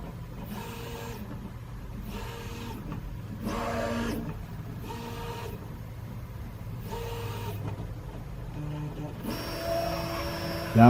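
A 3D printer runs its alignment check with repeated stepper-motor whirs and buzzing tones in short rhythmic bursts over a steady fan hum, close by.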